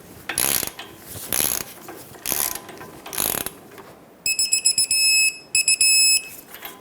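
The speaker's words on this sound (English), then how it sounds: "Let's bottom this out and then torque it to 66 foot-pounds." A torque wrench on a 22mm mounting nut of a Ford E-350 inner tie rod gives four loud ratcheting bursts, then a rapid click-click from the wrench reaching its set torque, close and alone.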